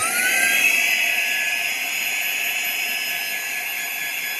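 A Harvox handheld car vacuum cleaner runs at its highest power setting inside a Corolla Hybrid, giving a steady, loud high-pitched motor whine with a rising tonal note that holds alone throughout.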